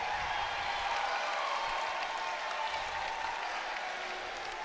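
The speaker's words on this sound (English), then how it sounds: "Good hand from the crowd here as Luke comes out of the ball game along with Wiley Minix" A high school boys' varsity basketball crowd in a gym gives steady, sustained applause as players leave the game. The sound is a distant, even wash of clapping that lasts throughout with little variation.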